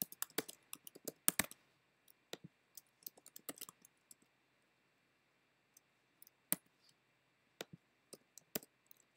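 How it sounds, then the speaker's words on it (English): Fingers tap on a computer keyboard, giving faint, sparse clicks in short irregular clusters with long quiet gaps between them. "now I'm going to type in my choices."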